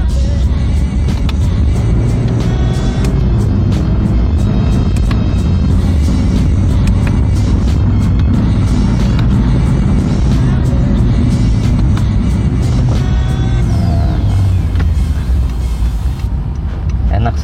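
A 2014 Honda Jazz automatic being driven while its tiptronic mode is used to shift manually, a steady, loud low engine and road rumble inside the cabin with slight rises as it accelerates, while a person talks over it.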